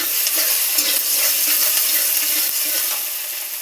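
Chopped onions stir-fried in hot oil in a heated wok-style pan, a steady close sizzle with soft scraping of the stirring spoon running throughout, fading slightly at the end.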